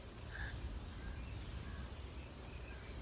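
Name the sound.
birds calling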